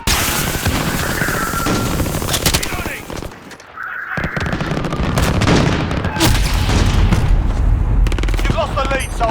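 Rapid automatic gunfire and booming shots from the Call of Duty Warzone video game, loud and dense and nearly continuous, with a short lull partway through and game effects layered over it.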